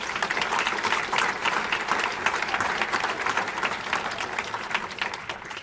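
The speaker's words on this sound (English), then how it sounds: "I need everyone to give them a round of applause as well" Crowd at a university athletics awards celebration giving a sustained round of applause, steady and even clapping that fills the room with no pauses.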